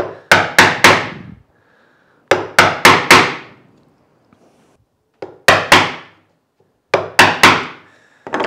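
Steel-faced hammer blows drive a Stanley chisel into wood for a no-glue book rack joint, falling in tight bursts of three or four sharp knocks with quiet pauses between, close and loud with no talking.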